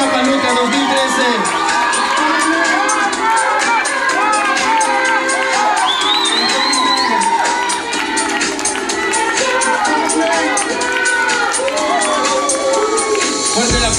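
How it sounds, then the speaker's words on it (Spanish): A crowd cheers, shouts and applauds for the winners at a Miss Ixtapaluca 2013 pageant crowning. The noise is loud and dense and holds steady for the whole stretch. "Fuerte el aplauso para nuestras ganadoras"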